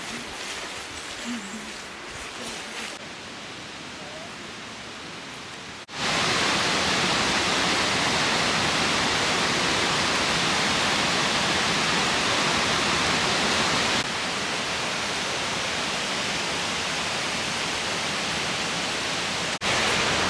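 Hidden waterfall on a branch of a river in Algonquin Park, reached by canoe, gives a loud, steady rushing roar close by, swelling up abruptly after a quieter outdoor opening and holding on alone.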